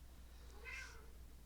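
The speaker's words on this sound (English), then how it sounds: "My cat's over here meowing at me." A house cat gives a single short, faint meow over a quiet room hum.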